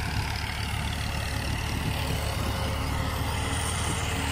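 A tractor engine, either a 1995 Fiat 480 or a 1984 MF 240 working with a cultivator, runs as a steady, loud, continuous rumble with no pauses, heard close up without talk.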